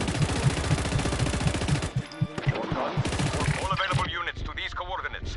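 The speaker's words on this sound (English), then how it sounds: "Need to hold the bloody machine gun again." Rapid machine gun fire in the open-world action game Just Cause 3, loud close bursts of rattling shots with a brief break, then explosive booms and chaotic battle noise toward the end.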